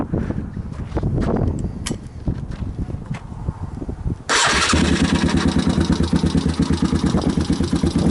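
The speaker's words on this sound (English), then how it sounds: "Let's fire this thing up here." A 2010 Gio 250 Chinese dirt bike with little muffling cranks and fires, then settles into a loud, rapid, steady idle close by; no one speaks.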